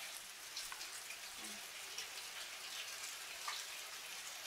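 Rain from a thunderstorm keeps up a faint, uniform hiss of falling drops with occasional light patters, calm and unbroken.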